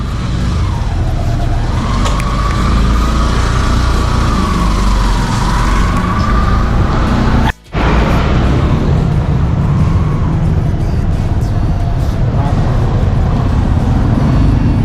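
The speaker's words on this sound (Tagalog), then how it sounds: "Traffic sa EDSA." Heavy road traffic on EDSA drones continuously with engine rumble and tyre noise, loud and close, with a momentary cut in the sound midway.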